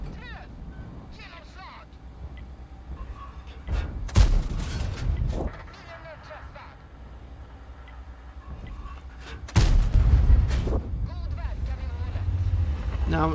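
Tank cannon fire in World of Tanks during a tier 10 Clan Wars battle with a Strv 103B, two heavy booming blasts several seconds apart over a rumbling engine, with someone talking throughout.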